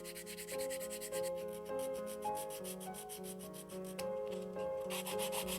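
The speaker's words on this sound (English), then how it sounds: "I do like hand sanding with the sandpaper sticks." Sandpaper sticks rub by hand over a large 3D pen figure in quick, steady back-and-forth strokes, close up and alone, while soft music with a tune plays underneath.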